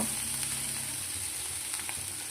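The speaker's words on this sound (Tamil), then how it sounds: "இதெல்லாம் போட்டு நல்லா பிரட்டிக்கணும்" Bitter gourd (athalakkai) pieces with chilli powder stir-frying in a hot pan, giving a steady hiss of sizzling oil with faint stirring scrapes, close and continuous, no voices.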